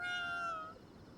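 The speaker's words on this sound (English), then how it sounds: "Oh, the shopkeeper cat is back." A shopkeeper cat in Ghostwire: Tokyo meows once, a clear, drawn-out call that fades over about a second, heard alone and close.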